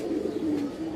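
A racing-line pigeon gives a short, low, throaty coo, heard up close with nothing else over it.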